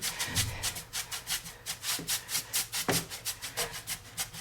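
A dry brush rubbed back and forth over stain on a surface for a faux wood grain finish, giving close, rhythmic scratchy strokes, about four per second, with no talking.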